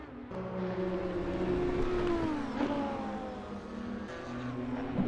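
A 2004 Formula 1 car engine in a racing video game whines at high pitch, its tone sweeping up and down as it shifts through gears, steady and loud with no voices.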